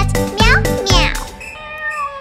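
In a children's song, a singer imitates a cat with a couple of sung meows over bright backing music.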